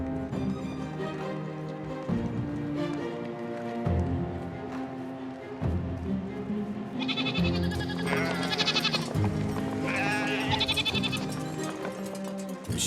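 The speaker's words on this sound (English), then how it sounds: "The sheep and goats follow on their heels." Sheep and goats bleating as a flock moves along behind donkeys, several animal calls rising over a steady, busy background, some near and some farther off.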